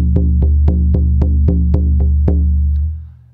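A deep drum beats at a steady, even pace for a shamanic journey, about eight booming strokes over a sustained low hum, then fades out.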